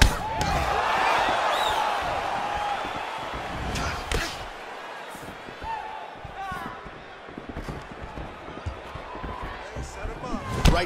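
Punches land in a UFC 4 fight video game between Bruce Lee and The Gladiator, sharp smacking impacts hitting repeatedly and irregularly over a crowd bed, with a commentator talking throughout.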